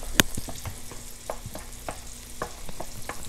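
Stirring in a pot of boiling water just taken off the heat, outdoors during a mangrove catch-and-cook, with repeated soft scraping and clinking strokes in an irregular rhythm, close and moderate, no talk.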